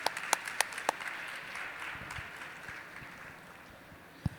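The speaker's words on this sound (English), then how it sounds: "a round of applause, please" A panel audience at a wellbeing event gives a modest round of applause, a soft, steady patter of many hands in a large room, with a few sharper individual claps standing out near the start and end.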